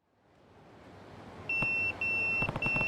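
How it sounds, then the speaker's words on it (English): Pager beeping in the video game Yakuza 0: a near, piercing electronic tone repeating in three to four quick bursts over a rising background hum. "That's my beeper."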